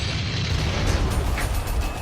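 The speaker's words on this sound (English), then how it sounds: "they're shooting my conquerors with artillery" Artillery shelling in the strategy video game Armageddon, a dense, continuous rumble of booms and bursts with steady low-end roar and no clear gaps, moderately loud throughout.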